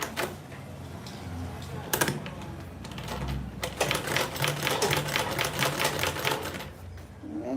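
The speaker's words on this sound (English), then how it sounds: "I'm basically sewing on that line that I marked out, the 1/2 inch mark" A sewing machine runs in steady rapid bursts, stitching along a marked half-inch line on the fabric panels of a mini grocery tote bag, close and clear with brief pauses and a faint voice in the background.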